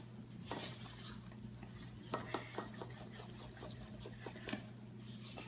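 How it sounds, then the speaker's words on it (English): Red velvet waffle batter is stirred and whisked in a bowl, producing soft scraping strokes with a few sharper clinks against the side, close and quiet over a steady background hum. "Just gonna do a general sweep through, and then I'm actually gonna whisk it together"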